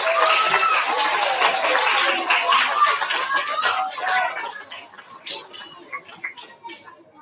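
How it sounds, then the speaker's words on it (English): Applause and cheering from an elementary school audience at a student recognition ceremony, dense clapping with crowd voices that thins out toward the end. "Give our students a round of applause"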